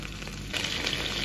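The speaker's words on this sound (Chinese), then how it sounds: "葱姜蒜下锅" Scallion, ginger and garlic hit hot oil in a Northeastern Chinese home kitchen, a close, steady hiss that jumps louder midway as the aromatics go in and keep sizzling.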